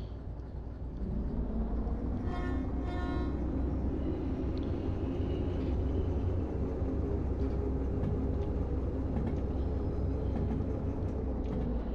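A train in the Derail Valley railway simulation game rumbles steadily with a low, continuous drone, with a brief horn-like tone near the start.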